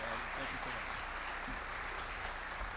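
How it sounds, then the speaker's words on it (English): A school chapel audience applauds in a steady, continuous patter of many hands, with a voice briefly audible under the clapping. "let's give Erik a warm round of applause"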